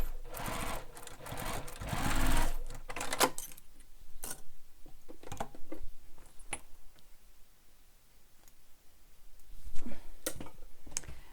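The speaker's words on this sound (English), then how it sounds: "Basting it in place all the way across." A sewing machine runs in a burst, basting fabric lining across a handmade bag, then stops, followed by scattered clicks and ticks of handling nearby.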